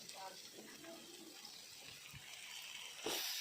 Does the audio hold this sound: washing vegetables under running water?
yes